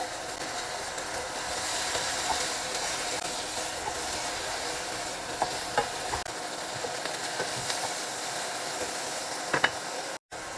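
Boiled sausage frying in a pan, a steady bright sizzle running close and continuous, with a few light clicks and scrapes of stirring near the end.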